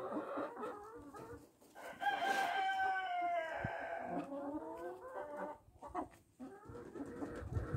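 Chickens of mixed breeds cluck and murmur through a faint backyard scene while they bathe, with a rooster crowing partway through.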